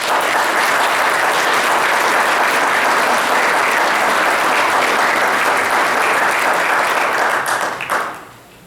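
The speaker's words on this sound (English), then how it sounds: "That applause could go on for a long, long time." Sustained applause from an audience at a Rose Queen and Court event, a dense, loud wall of clapping lasting about eight seconds before tapering quickly to quiet.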